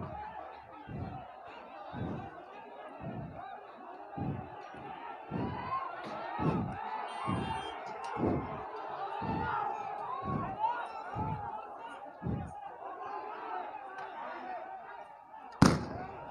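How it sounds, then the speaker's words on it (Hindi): Protesting farmers face off against police in Hisar: a restless crowd murmurs and calls out, with dull bangs thudding roughly once a second and one loud, sharp crack near the end. "किसान के ऊपर पुलिस की फायरिंग है, आप देख सकते हैं।"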